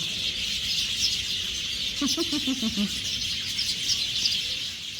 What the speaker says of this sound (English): Wow, lots of birds.